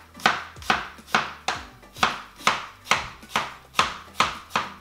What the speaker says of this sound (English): We're going to slice up some apples first, okay?